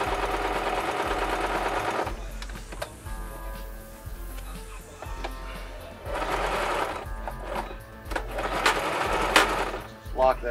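Sewing machine stitching a box hem on nylon fabric with grosgrain ribbon, running in several bursts with pauses and shifts in speed, close and clear, with some faint talk in the background.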